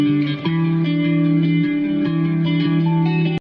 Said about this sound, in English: An acoustic guitar with a reverse to bring it in smoothly.